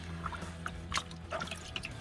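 Water is poured and drips onto rag strips while a plumber works on a pipe joint, giving faint irregular splashes and trickles over a low background hum.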